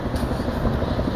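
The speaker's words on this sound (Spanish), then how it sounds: "Eso es un helicóptero, el que hay arriba" Helicopter flying overhead, a loud, steady rotor and engine rumble filling the brief moment without letup and without talking.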